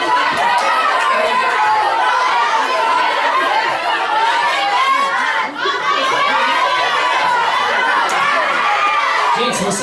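A live show audience shouts and chatters continuously, a loud, dense crowd roar with children's yells and bits of laughter, sustained throughout with only a brief dip midway.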